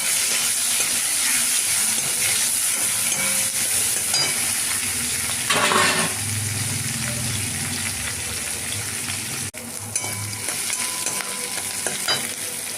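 Onions dropped into hot oil in a wok hiss with a steady, close sizzle that holds for the whole stretch, with a louder rush of crackle and stirring around the middle.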